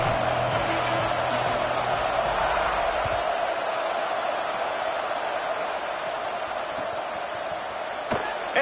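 Stadium crowd roaring at kickoff in the College Football 27 video game, a broad sustained rumble of cheering that holds steady and eases slightly toward the end, with a faint voice underneath early on.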